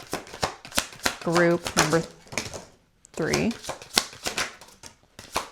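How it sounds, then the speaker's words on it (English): Tarot cards are shuffled in quick riffling bursts of crisp flicks and slaps, heard close and mixed with a woman's speech. "We're going to keep shuffling."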